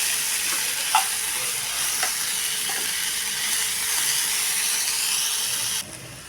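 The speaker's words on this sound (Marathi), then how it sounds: "गॅसच्या मिडियम फ्लेमवर ही भेंडी आपण आता एकसारखी परतत राहूया" Okra being stir-fried in a pan over a medium gas flame, a steady loud sizzle with a few soft scraping stirs, continuing until it drops abruptly near the end.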